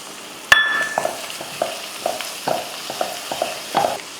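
Crab mince sautéed with masala in a pan, a soft steady sizzle broken by a sharp clink near the start and a series of scraping stir strokes spaced about half a second apart.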